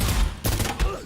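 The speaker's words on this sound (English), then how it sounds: "Let's see what the shotgun's like." Shotgun blasts in the video game Insurgency: Sandstorm beta, two heavy booming shots close together about a third of a second apart, loud and close with no talk.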